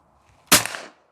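A single sharp shotgun blast fired at a clay target, loud and close, with a quick decaying report and nothing else around it.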